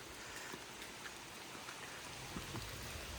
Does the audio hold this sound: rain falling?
yes